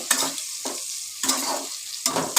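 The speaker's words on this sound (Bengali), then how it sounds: "পেঁয়াজ কুচিটা একটুখানি ভাজা করে নেব লাল লাল করে" Chopped onion fries in oil in a kadai, with a steady sizzle. It is broken by several stirring bursts at roughly half-second intervals, close up.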